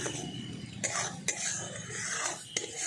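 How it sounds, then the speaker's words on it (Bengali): Raw mango pulp being stirred with oil and asafoetida for raw mango candy: a steady, close scraping and swishing of utensil against the vessel, broken by three sharp clicks spread across the stretch. "এই তেল আর হিঙের সাথে আমি এই আমের পাল্পটাকে খুব ভালো করে মিশিয়ে নিচ্ছি"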